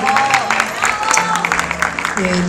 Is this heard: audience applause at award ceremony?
yes